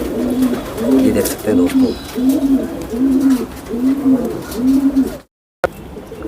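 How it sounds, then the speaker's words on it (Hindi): Old Sialkoti pigeons coo in a steady, rhythmic run of low calls close by, while someone talks over them and the sound cuts out briefly near the end. "ये उनके कुछ पुराने सियालकोटी कबूतर है"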